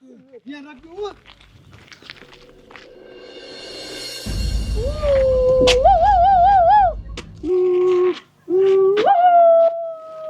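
Drawn-out, wavering dog howls rise and fall in several long bursts, loud and close, within a Gujarati comedy sketch about a rabid dog biting a policeman, with talking and scuffling noise around them.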